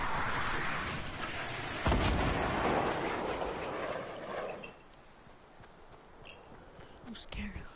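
Rocket blasts in a video game: a sharp, heavy explosion boom stands out early, with rumbling impacts and scattered smaller bangs, while players talk over the action.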